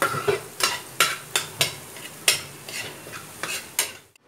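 Egg being stirred and broken into small pieces in a pan for chicken fried rice, a spatula striking and scraping the pan in about a dozen sharp rhythmic knocks over a light sizzle, close and loud.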